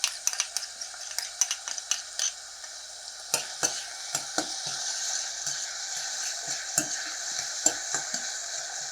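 Onions and garlic frying in oil over high heat, a soft continuous sizzle punctuated by a series of sharp clicks and scrapes of a utensil stirring in the pan, close and fairly quiet.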